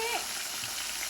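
Eggs fry in plenty of oil in a pan, giving a steady, close sizzle and crackle throughout, with no talk heard.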